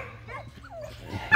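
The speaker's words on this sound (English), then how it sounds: "You might be wondering why these dogs are acting crazy out here." Several dogs yip, whimper and bark excitedly outdoors at a new pit bull puppy, short overlapping calls building to a loud burst at the end.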